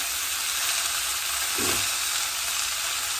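Amaranth greens stir-fry in a hot pan, producing a constant close hiss and sizzle with one brief stirring clatter near the middle.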